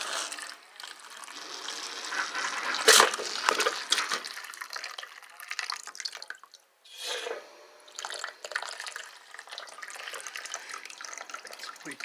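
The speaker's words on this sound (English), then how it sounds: "It's leaking out of the hose." Water and trapped air sputter out of a temporary hose after a Shark Bite washer valve install, a hissing, gurgling rush with irregular spurts and a brief gap midway, no talking.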